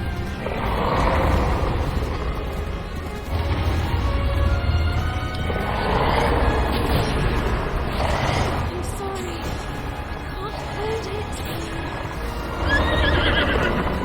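Horses whinny and snort over a steady rumble of hooves and background noise in the video game Zelda: Breath of the Wild, with the neighs rising repeatedly across the scene.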